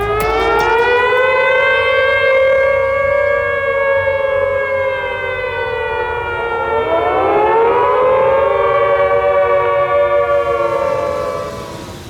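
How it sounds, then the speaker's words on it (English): Tornado warning sirens in Dallas County wail loud and steady, a civil defense tone that rises and falls in long sweeping cycles for about twelve seconds, with no voices over it. "we're going to sound the sirens in Dallas County"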